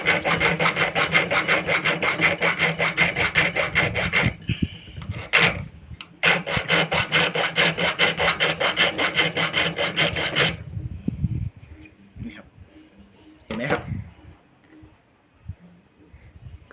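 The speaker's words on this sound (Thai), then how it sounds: "ผมจะลองตะไบตัวนี้ เป็นเหล็ก S504 ก่อนนะครับที่ยังไม่ได้ชุบนะครับ" A hand file rasps across unhardened S504 steel in rapid, even back-and-forth strokes, loud and close. Two sustained bursts are split by a brief pause, then the work trails off into a few scattered scrapes and clinks.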